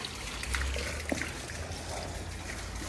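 Pond fountain trickling and splashing steadily in a backyard fish pond with an overflow drain and pumping filter, soft continuous water patter at moderate distance with a faint low hum beneath.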